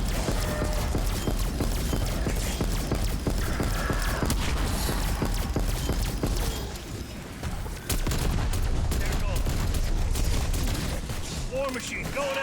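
Ray gun fire in Call of Duty Zombies on Die Maschine produces dense rapid bursts of shots and mechanical clatter throughout, with a brief lull before the barrage resumes while a player talks over it.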